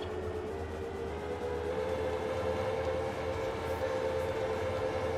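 Train rolling past in Farming Simulator 22, a steady droning rumble with a sustained tonal hum held throughout, moderately loud and continuous, with no talking.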